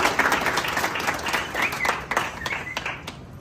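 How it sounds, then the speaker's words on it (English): Crowd gives a round of applause at an airport welcome for billionaire Nick Danso at Prempeh II International Airport. Many hands clap in a dense, fairly close burst that thins toward the end, with some voices mixed in. "Shall we do a big round of applause?"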